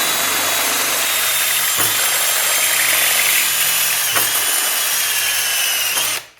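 A step drill bit enlarges a hole in sheet metal, a continuous loud whining power-drill grind with brief clicks, running steadily then stopping abruptly at the end.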